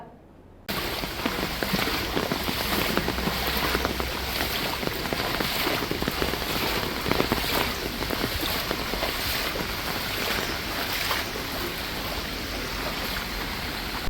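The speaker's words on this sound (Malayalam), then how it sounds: "തുടർച്ചയായി പെയ്യുന്ന മഴ ജനജീവിതത്തെ ബാധിച്ചിട്ടുണ്ട്" Dense, steady rushing noise of heavy continuous monsoon rain pouring over waterlogged areas of Chavara, Kerala, filling the scene without a break, broad and loud.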